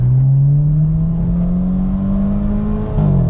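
BMW F32 fitted with a Euro Arts aftermarket exhaust revs loud and close, one sustained, rising engine note that drops slightly at the end, with no voices.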